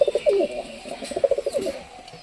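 Pigeons cooing close by, a run of soft throaty burbling coos in quick rhythmic pulses, fairly clear over a quiet background.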